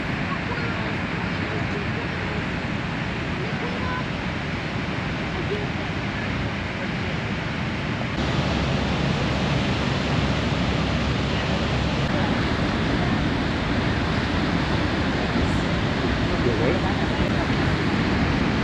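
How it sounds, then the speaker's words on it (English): Niagara Falls roars as a dense, steady wash of falling water, loud and unbroken throughout, with voices partly audible beneath the rush. "and a pretty big waterfall"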